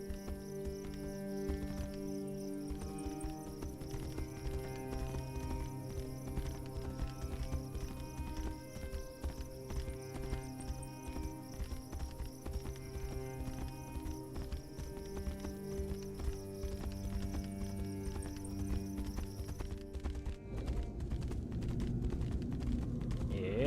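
Horse hooves clop in a steady rhythmic gallop in the fantasy game Tainted Grail: Fall of Avalon, moderately close over a layered music and ambient bed, with no clear neigh standing out.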